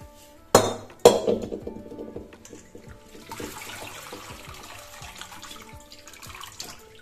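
Whey water strained from vinegar-curdled milk for homemade paneer, with two sharp clanks of a pot or strainer at the start, then a steady splashing trickle of liquid pouring through a strainer into a sink.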